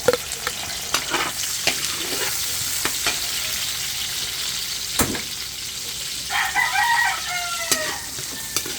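Garlic and onion sizzle in a pan for squid adobo, with a steady frying hiss under scraping stir strokes and occasional sharp knocks of the utensil, near and continuous.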